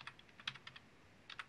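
Control and arrow keys tapped on a computer keyboard during 3D animation work, a few quiet clustered clicks, then a pause and another quick burst of presses, close and soft.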